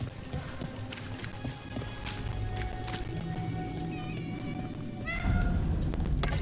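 Cat meowing in the video game Dragon Age: The Veilguard: a few short, faint meows over dense game ambience with music and low rumbling, followed by louder background noise.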